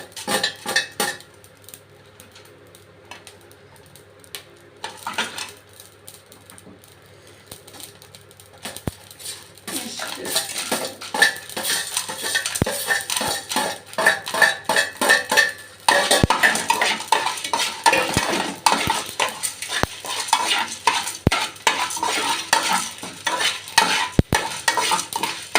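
Coriander seeds and cumin roast dry in a pan while a utensil stirs and scrapes them in quick, clattering strokes, starting quietly and growing busier and louder after several seconds.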